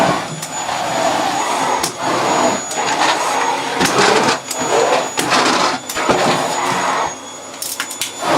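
An AmazonBasics bagless cylinder vacuum cleaner runs on carpet at its lowest setting, a loud, continuous rushing whoosh broken by repeated brief dips and scraping surges as the floor tool is pushed back and forth.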